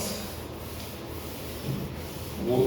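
A paint roller with 7 mm nap spreads matte latex paint across a kitchen surface, making a steady soft rubbing swish that swells slightly toward the end, close by with no talk.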